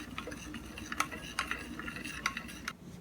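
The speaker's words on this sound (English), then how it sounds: "And I'm stirring." Tart filling stirred with a utensil in a bowl, light irregular ticks and scrapes repeating at close range over a quiet background.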